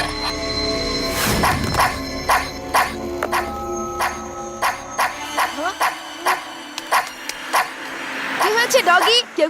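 A dog barking in a rapid series of sharp, close barks and yips, with a voice heard at the start.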